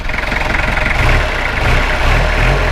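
A 1995 Toyota Hilux Mighty-X pickup with a 2.5-litre engine runs steadily and close up, its low rumble swelling slightly as the throttle is blipped, with no talk over it.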